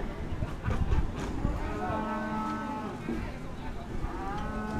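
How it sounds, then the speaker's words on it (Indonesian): A Simmental cow at a cattle market in Gunung Kidul, Yogyakarta gives a long, loud, close moo that swells and fades over several seconds, with faint background voices. "Ini guys sapinya."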